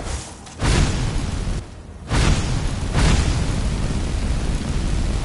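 A flames spell is cast in Skyrim VR, a harsh broadband roar that surges on, drops away briefly, then returns and keeps blasting steadily, loud and close with no voice.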